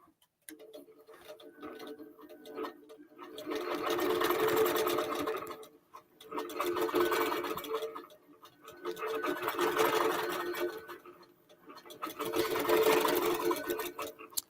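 An embroidery quilting machine stitches a quilt design in four long rapid-fire bursts, each a steady close mechanical chatter lasting a couple of seconds, separated by short quiet pauses.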